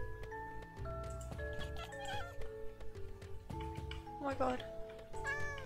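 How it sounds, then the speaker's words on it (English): A black cat in the Minecraft video game meowing several times over game music, with a person talking excitedly across the meows. "there's a black cat"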